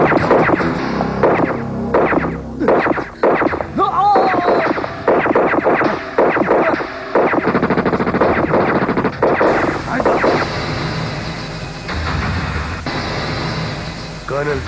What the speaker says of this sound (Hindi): चालू रखना फायरिंग।